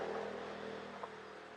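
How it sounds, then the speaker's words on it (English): Cars passing along a road near a dispersed campsite in the Marshall Pass area, a steady low traffic rumble that stays fairly faint and constant throughout. "As you can see, there's some cars going by"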